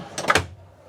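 An RV bedroom drawer in a 2025 Entegra Travel Supreme 27A slides open with a quick, short scraping rush that fades into quiet room tone.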